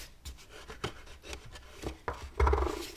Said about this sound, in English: just rub on the inside just to help that adhesive